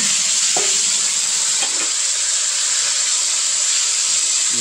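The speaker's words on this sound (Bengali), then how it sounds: "তো এখন মাংসগুলো দিয়ে দিই।" Marinated meat dropped into hot oil in a heated wok, a loud continuous broadband sizzle and hiss with a couple of brief clinks near the start, close and steady throughout.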